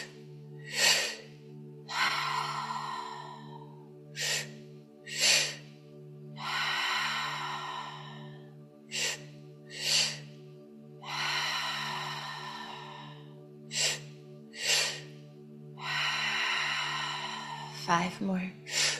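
Deep guided breaths taken through an O-shaped mouth, long drawn inhales and sighing exhales alternating slowly and close, with short bursts between them over a steady low drone.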